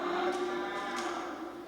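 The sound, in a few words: cattle mooing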